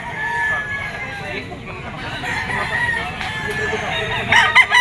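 A White Kelso stag gamefowl crows amid a busy yard with other roosters, some clucking and a babble of voices behind, with a louder, closer crow near the end.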